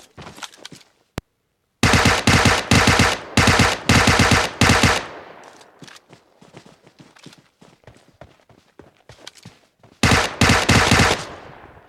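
Rapid automatic gunfire from the mobile battle-royale game PUBG Mobile comes in loud clustered bursts, followed by scattered quieter shots and then another intense burst near the end.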